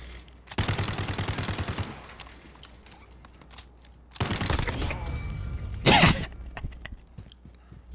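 Automatic gunfire in Call of Duty: Modern Warfare during a one-on-one Gun Game match on the Rust map: two loud, rapid bursts of about a second each, then a sharp single blast, with quieter clatter between them.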